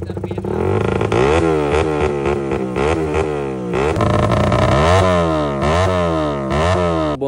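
A motorcycle engine revs up and down repeatedly, loud and close, with sharp sweeping pitch changes and crackling exhaust pops between revs, with no talking.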